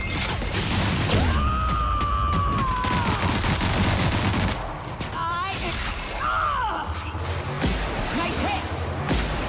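Gunfire exchange in the video game The Outer Worlds, with bursts of shots, mechanical clatter and whooshing effects over a steady rumbling game backdrop, while a voice talks intermittently through the fight.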